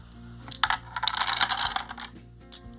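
Dice clatter and rattle inside an unfelted wooden travel dice box with a built-in tower, a bright burst of hard clicks and bounces that builds and then trails off into a few scattered taps.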